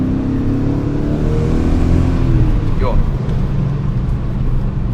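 A BMW E39 M5 engine revs in sport mode, a loud, close, low rumble that swells and eases, with a brief whine sweeping upward partway through.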